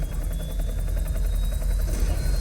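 Military helicopter in the Vietnam War film We Were Soldiers: a steady, loud rotor thump and engine drone filling the whole clip, with a faint high whine running over it.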